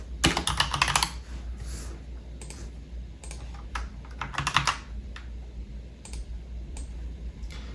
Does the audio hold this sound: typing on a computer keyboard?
yes